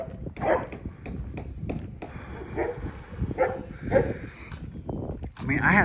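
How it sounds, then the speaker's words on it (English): Several dogs bark outdoors during a walk, their sharp yaps and woofs rising over steady nearby talking and passing background noise. "Barking ass dogs."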